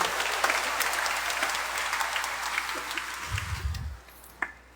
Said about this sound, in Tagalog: Palakpakan natin si Lord ng malakas.